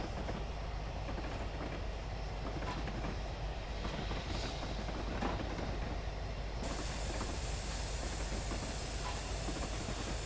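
Safety valves on the Flying Scotsman steam locomotive blow off in Train Simulator, a steady loud hiss starting partway through over the continuous rumble and clatter of the running train.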